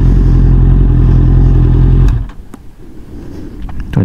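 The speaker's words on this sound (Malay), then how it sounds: "Tu ada motor lain tu." Another motorcycle's engine roars loud and close past a Honda CB650R, then drops away abruptly, leaving quieter road noise with light clatter.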